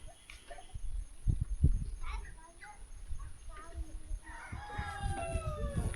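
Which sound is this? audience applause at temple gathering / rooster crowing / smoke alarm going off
rooster crowing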